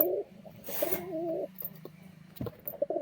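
Giribaz pigeons in breeding condition coo close by, with a few deep, throaty calls in a row separated by short pauses, heard alone without talk.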